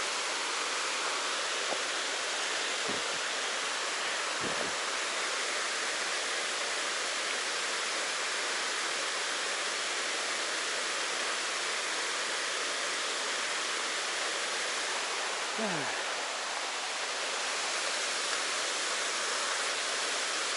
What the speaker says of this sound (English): Looks like a cascading set of falls.